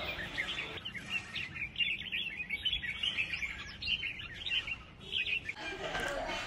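A red-whiskered bulbul sings close by in bright, repeated chirping phrases, with short gaps between bursts over faint background noise.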